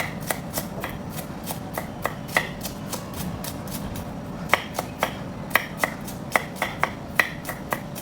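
A knife chops pressed garlic cloves on a board in a home kitchen, a fast series of crisp taps at an uneven rhythm, close and clear with no talking.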